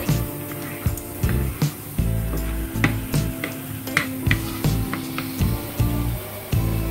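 Chilies fry in a pan for coconut sambol, with a steady sizzle under regular clattering taps from stirring. It sounds close and fairly loud, with no talking.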